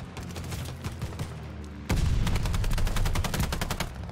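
A new assault rifle in Call of Duty Vanguard on the Casablanca map fires a rapid sustained automatic burst, loud and close, with sharp evenly spaced cracks after a quieter stretch of background game noise.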